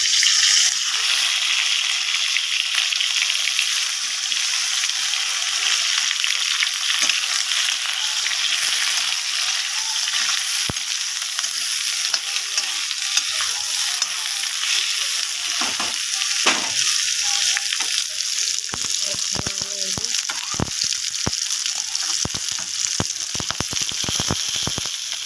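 Pointed gourd (potol) fries in a pan over spice tempering, a steady, dense close-up sizzle lasting throughout, with scattered clicks and scrapes of stirring growing more frequent toward the end and no speech.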